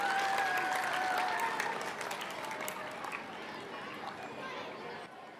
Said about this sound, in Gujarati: વાલી મિત્રો, જોરદાર તાળીઓથી આપણે તેમને વધાવીશું.